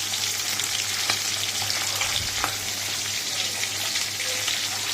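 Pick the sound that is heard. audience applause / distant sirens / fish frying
fish frying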